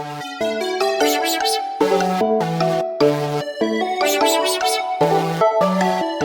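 Synth lead played in low octaves as a bass line for a beat, a bright buzzy tone in choppy repeated notes and short phrases, steady and loud with no voices.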